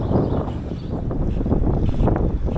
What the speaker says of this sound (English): And it's a windy, windy day.